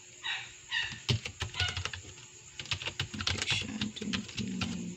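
Login details being typed on a computer keyboard, a busy run of close, sharp key clicks and clacks in irregular bursts, with a brief faint voice among them.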